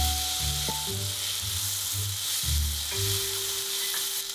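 Salmon with green beans frying in a pan produces a steady, close sizzle with soft stirring under faint background music, and no talk.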